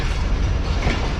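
Millat Express rake rolling along into the washing line at Karachi Cantt station, a steady loud rumble of wheels and carriages with faint clickety-clack, no voices.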